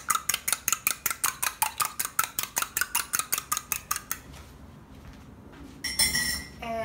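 A fork or whisk clinks rapidly against a bowl while an egg wash of egg and salt is mixed, about twenty quick even taps, then a few scraping clinks before it stops.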